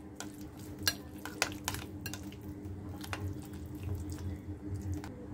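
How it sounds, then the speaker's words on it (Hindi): Chicken tikka marinade ingredients, including lemon juice and oil, are stirred together in a bowl, giving soft wet sloshing and a few sharp clicks of a spoon against the dish, quiet and close. "अच्छे से मिक्स करेंगे सब इंग्रेडिएंट्स को।"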